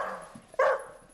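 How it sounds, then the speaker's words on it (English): A dog gives a single short, sharp bark after a faint whimpering sound, heard close in a quiet indoor scene. "Why does the dog shout?"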